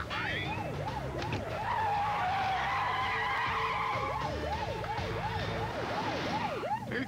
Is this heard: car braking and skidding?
yes